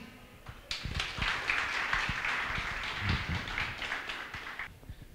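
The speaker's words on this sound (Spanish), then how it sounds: "para todos un fuerte aplauso" A crowd applauds steadily for about four seconds, a dense wash of many hands clapping at moderate distance, then fading out, at a book presentation.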